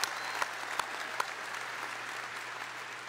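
An audience at a press conference introducing a new Razorbacks head basketball coach, with soft, steady applause throughout and a few sharper clicks like camera shutters standing out.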